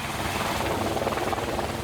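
A rescue helicopter hovers off the coast during a sea rescue, its rotor and engine giving a loud, continuous thudding roar that holds steady throughout with no voices.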